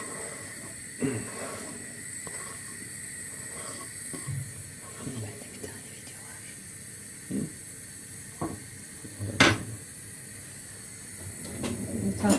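Chopped onions sizzle in plenty of olive oil as they are sautéed for kısır, with a steady soft hiss broken by occasional spoon knocks and scrapes against the pan, and no talk.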